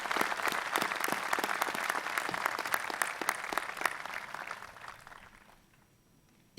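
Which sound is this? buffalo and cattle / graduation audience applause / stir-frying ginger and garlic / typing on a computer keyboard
graduation audience applause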